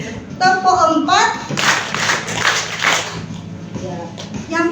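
Seated attendees at a motivational seminar clap a longer counted pattern together, a steady cluster of claps lasting over a second, framed by someone talking before and after.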